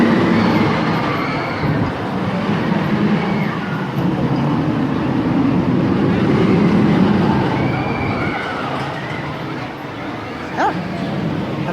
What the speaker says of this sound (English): Sounds like they're running polyurethane wheels